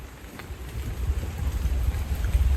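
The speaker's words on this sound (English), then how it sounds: "It'll be just the rain anyway." Steady rain patters on a surface nearby, a continuous soft hiss with a low rumble underneath and occasional heavier drips.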